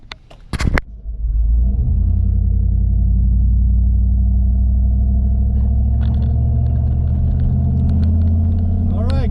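A car with a 4.8 engine, towing a trailer carrying the Rallybug, cruises on the highway toward Tucson. After a few brief clunks it settles into a loud, steady interior rumble of engine and road noise, with a voice speaking over it.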